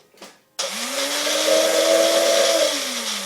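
A cheap Magic Bullet blender whirs loudly as it blends ingredients, starting abruptly after a brief clatter and holding a steady, high-pitched motor roar that rises slightly mid-run.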